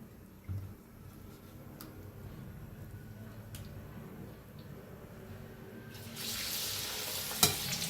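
Spinach pakoda frying in oil, a low bubbling sizzle that is quiet at first, then swells into a louder, hissing fry near the end with a sharp clink partway through.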